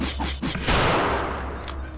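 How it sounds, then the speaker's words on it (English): Sniper gunfire in Return to Castle Wolfenstein: a few sharp shots up front, then a loud blast with a long echoing tail that fades out, no talk heard. "Someone's shooting you?"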